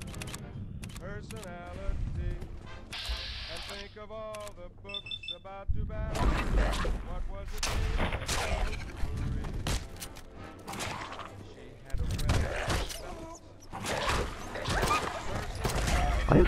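Gunfire in Fallout London comes as repeated sharp, crackling shots among clicks and mechanical sounds, with beeping tones early on and someone talking over much of the action.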